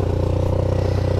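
A Linhai ATV engine fitted with a fake Akrapovic sport exhaust runs cold with the choke pulled, a loud, close, steady rapid thrum with a fast even pulse and no voices.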